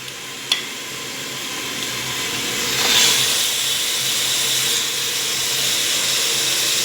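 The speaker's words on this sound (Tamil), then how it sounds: "நல்லா எண்ணெயிலேயே ஒரு நிமிஷம் வதக்கி விட்டுக்கணும்" Mutton sautés in oil with mashed tomato for a Chettinad gravy, a steady close sizzle and hiss with a sharp clink near the start and a swell of stirring midway.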